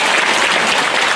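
An audience at a rally for historical truth and justice applauds, a loud, dense, unbroken burst of many hands clapping close by.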